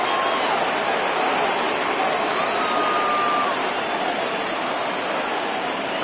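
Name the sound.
baseball stadium crowd cheering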